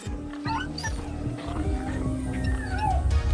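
A dog whimpers in the video game Far Cry 6, with brief high, thin whines rising over a busy bed of game music and ambient noise, moderately quiet overall.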